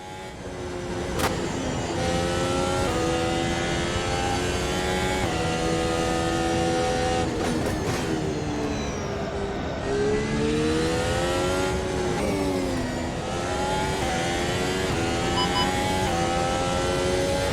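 Race car engine in Automobilista 2 revs hard and steadily for the whole stretch, loud and close, pitch climbing and dipping through gear changes with brief lifts around corners, no talking.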